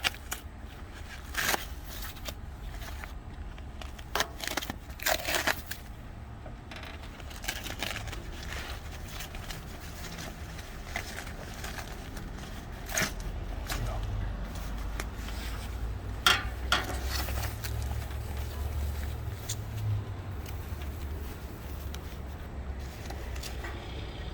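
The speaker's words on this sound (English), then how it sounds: "Just got our stuff back from powder coating, fixing to unwrap it." Powder-coated Toyota truck parts are unwrapped at close range, with scattered crinkling, rustling and light clinking of wrapping and metal over a low background hum, some sharper tears and knocks standing out.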